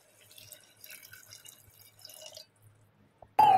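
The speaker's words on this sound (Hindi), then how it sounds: "अब डालते हैं पानी," Water poured into mutton masala in a pressure cooker, with faint dripping and trickling, then a sudden loud, close splash of pouring at the very end.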